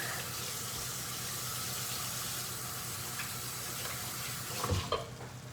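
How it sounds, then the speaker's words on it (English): Sink tap water running steadily while hands are washed in a home kitchen, with bacon cooking nearby, a continuous even hiss of flow close by, ending with a brief splash near the end, no talk. "Let me wash my hands up here."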